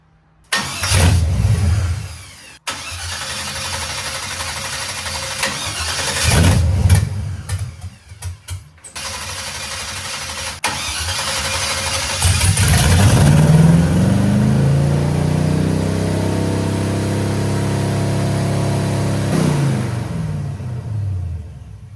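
A 1969 Camaro restomod with poorly sized fuel injectors cranks over in a few short attempts, then catches. The engine revs up and down in rising and falling sweeps, loud and close, for the rest of the run, with no talk.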